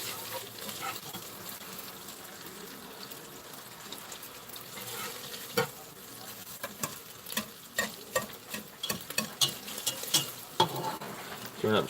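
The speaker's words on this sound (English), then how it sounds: "So now that I hear that sizzle" Food fries in a pan while cooking biscuits and gravy, a soft continuous sizzle with scattered pops and stirring scrapes that grow busier toward the end.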